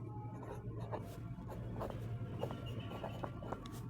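A marker squeaks and scratches across a board in short strokes, soft and close against a low steady hum.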